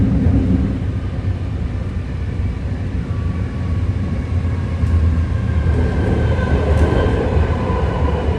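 A six-car BART Green Line subway train rides on its rails toward Daly City through foggy San Francisco, giving a steady, loud rumble of wheels and car body throughout with faint high squeals near the end.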